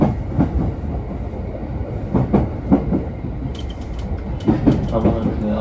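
A Tsurumi Line commuter train runs toward Okawa, its wheels giving a steady rumble with rhythmic clickety-clack beats over rail joints, heard loud and close from onboard.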